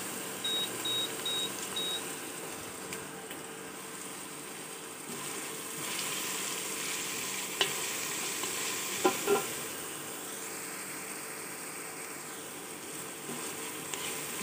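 Garlic, onion and ginger sizzle softly in hot oil in a pan, a low steady frying hiss with occasional stirring clatters and a few faint electronic beeps early on.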